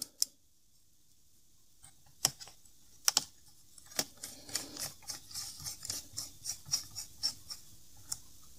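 Small screws being driven into a laptop during a fan cleaning and thermal paste change: a few scattered clicks at first, then a quick run of light, close ticking clicks from the screwdriver, quiet and without talk.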